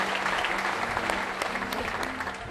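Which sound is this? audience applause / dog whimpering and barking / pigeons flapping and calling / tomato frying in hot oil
audience applause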